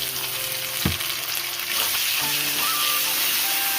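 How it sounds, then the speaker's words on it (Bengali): Shrimp and onions frying in a pan as ginger-garlic paste goes in, a loud, steady hiss and sizzle with a sharp clatter of stirring near the start, close up and without talk. "চিংড়ি মাছের পেঁয়াজ ভালোভাবে ভাজা হয়ে গেছে। দিয়ে দিচ্ছি একটু আদা রসুন বাটা দিয়ে দিচ্ছি।"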